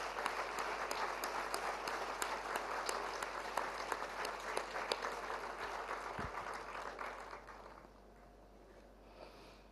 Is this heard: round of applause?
yes